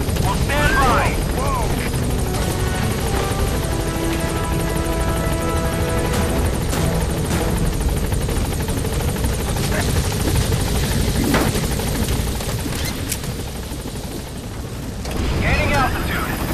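A helicopter in the video game Metal Gear Solid 5: The Phantom Pain lands and hovers with a loud, steady rotor drone that fills the whole stretch, with a brief lull before the roar swells again near the end.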